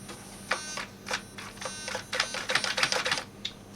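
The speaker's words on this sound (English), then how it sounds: "Now that's a quick servo." A Turnigy TGY-D003HV servo on an RC drift car sweeps back and forth, giving quick, faint, whirring buzzes in short bursts with brief gaps between them.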